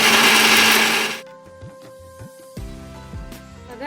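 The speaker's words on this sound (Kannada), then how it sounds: "ಈಗ ಅದೇ ಮಿಕ್ಸಿ ಜಾರಿಗೆ ಉಳಿದಿರೋ ಕೊಬ್ಬರಿ ಮತ್ತು ಮೆಣಸಿನ್ಕಾಯಿ, ಕರಿಬೇವು, ಹುಣಸೆಹಣ್ಣು ಏನಿತ್ತಲ್ಲ ಅದನ್ನೆಲ್ಲ ತರಿಯಾಗಿ ರುಬ್ಕೊಳ್ಳೋಣ" A kitchen mixer grinder whirs loudly for about a second as it coarsely grinds coconut, chillies, curry leaves and tamarind for chutney powder. The motor then cuts off, leaving quieter clinks and knocks close by.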